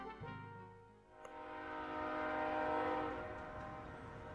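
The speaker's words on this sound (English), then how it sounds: "It's a good train noise." A video game train horn blares with rich sustained harmonic tones over the rumble of a moving train, swelling louder midway and then holding steady.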